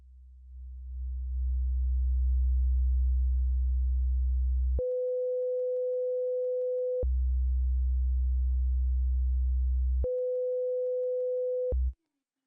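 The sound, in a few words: 60 Hz sine wave test tone from Behringer X32c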